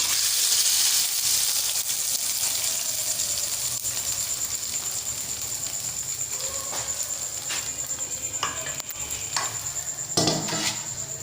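Browned onion tipped into a pot of kadhi gives a steady, close sizzling hiss, with a few light clinks and scrapes of a utensil near the end.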